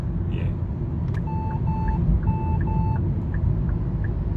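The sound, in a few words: Hyundai Sonata turn signal ticking before a lane change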